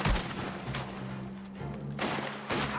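Rifle gunfire in the Mafia: The Old Country video game, sharp cracks at the start and again near the end, with rapid bursts over a low, steady hum of game sound.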